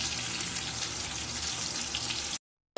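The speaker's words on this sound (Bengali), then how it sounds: "সেখানে আমি ফুলকপি বাটাটা তেলের মধ্যে দিয়ে দেবো দিয়ে স্লাইড হালকা হালকা করে নেড়ে নেবো" Cauliflower paste hits hot oil in a pan and fries with a loud, steady, broadband sizzle close by, holding evenly for over two seconds before cutting off abruptly.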